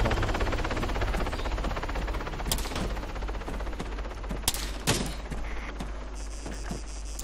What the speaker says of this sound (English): there's lots of fire coming